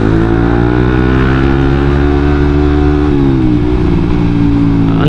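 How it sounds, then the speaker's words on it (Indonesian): A Suzuki GSX 150 motorcycle with a raised exhaust mount holds a loud, steady idle, then revs briefly and drops back, heard close and alone. "suara knalpotnya jadi lebih keluar sedikit gitu loh"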